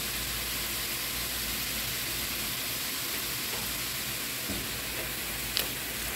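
Onion and garlic fry in a pan with turmeric powder, giving a steady, even sizzle that hisses on without a break and with no talking.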